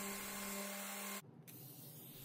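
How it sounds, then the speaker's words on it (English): Finish sanding of a white oak flag case with glued trim strips, a steady loud whirring hiss of a power sander running continuously, then cutting off abruptly partway through and leaving quieter workshop noise. "After that, some finish sanding."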